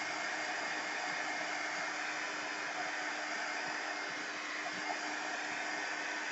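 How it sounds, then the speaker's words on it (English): A heat gun blows steadily over modeling paste to dry it, giving a loud, continuous airy roar that holds at an even level throughout, and no one speaks. "Right now, I'm just going to go at this and hope the heat gun will have some effect on it."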